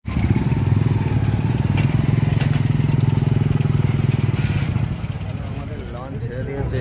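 A passenger ferry launch crossing the river at Kalna chugs steadily with a loud, close diesel engine drone that eases slightly near the end, while a person talks over it.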